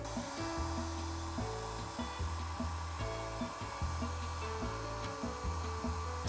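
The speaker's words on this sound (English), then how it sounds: "Then I'm taking the hair dryer and I'm warming up her head" A hair dryer blows steadily and close by, warming a Monster High doll's head to soften the glue, its motor hum wavering slightly as it is moved around, with no talking.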